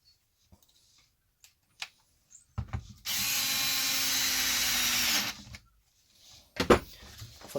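A power drill drives screws into Traxxas Wide Maxx parts, a loud, close, steady whir lasting about two seconds, framed by clicks and handling knocks before and after.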